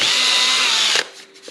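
A power drill bores a small hole into a guitar body, whining loud and close for about a second before spinning down, followed by a faint knock.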